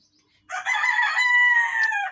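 An Egyptian Fayoumi chicken gives a loud, close, harmonic crow lasting about a second and a half, preceded by near silence.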